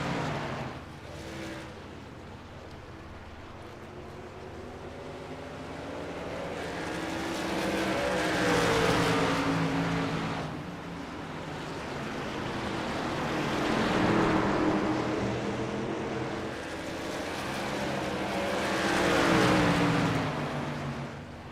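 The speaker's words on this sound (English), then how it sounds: "Only 13 cars out here on track tonight from North Wilkesboro Speedway" Race trucks from an iRacing truck series lap North Wilkesboro Speedway in the video game, their engines swelling and fading in three long passes over a steady roar, with no talk.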